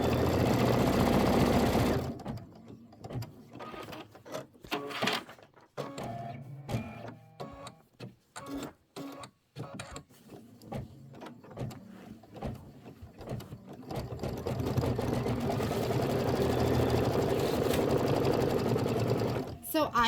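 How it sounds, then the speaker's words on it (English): An embroidery machine stitches an inner border fill on a Halloween-themed quilt block, giving rapid rhythmic mechanical clatter that runs near and loud through the middle, bracketed by quieter whirring stretches, with a person talking over parts of it. "you're just going to go ahead and hit start again, and it is going to stitch the inner border fill"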